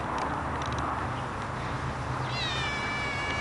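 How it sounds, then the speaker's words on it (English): A house cat that has been stalking birds outdoors lets out a single high, drawn-out meow near the end, faint against steady outdoor background hiss. "And there's a kitty there still, stalking birds."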